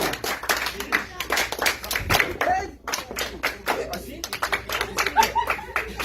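Sustained applause from a church congregation, many hands clapping in a steady dense rhythm with sharp individual claps near, under ongoing voices and a speaker talking over it.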